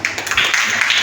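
Audience applause for William Shakespeare at a school literary association event, a dense steady patter of clapping filling the moment at even loudness.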